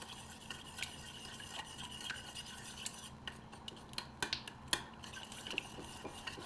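Tomato paste being stirred with warm water for a zucchini dish: a soft, close spoon scraping and clinking against the bowl, quiet and irregular, with brief sharper taps toward the end.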